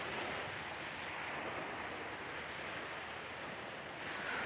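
Steady wash of surf on a very wide sandy beach, a constant broadband roar mixed with wind noise on the microphone, even in level throughout and without speech.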